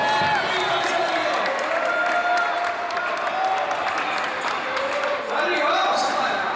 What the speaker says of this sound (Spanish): pido un fuerte aplauso para los chicos de Los Bombazos